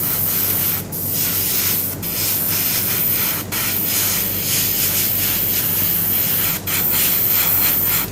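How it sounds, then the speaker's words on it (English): Airbrush spray gun painting a Bandai Spirits Petit Rise Gilgamesh figure: a steady, loud, close hiss of spraying air that runs continuously, broken by a few short dips where the trigger eases off. "I don't want the risk of spraying so much of paint"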